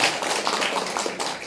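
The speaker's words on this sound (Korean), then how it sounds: "박수 한번 쳐주시죠" Audience applause at a forum panel on women's empowerment and sustainable business at the 2016 Jeju Forum: a steady, dense patter of many hands clapping throughout, fairly loud and even, with no talk over it.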